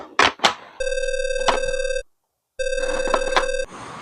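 Telephone call tone: two steady electronic ring bursts, each a bit over a second long, separated by a brief silence, loud and close, preceded by a couple of short knocks or clicks.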